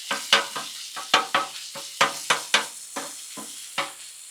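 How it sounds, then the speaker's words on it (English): Ground beef, about a pound, sizzles in bacon fat on a Blackstone griddle while a spatula chops and scrapes it in about a dozen sharp, rhythmic strikes over a steady frying hiss. "Put it right on there. Let's get it chopped up and get it going."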